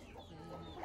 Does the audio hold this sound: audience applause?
no